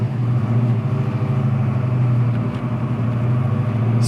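Engine of a 1969 Chevrolet Camaro RS running steadily, a loud, deep, even rumble close by with no voices.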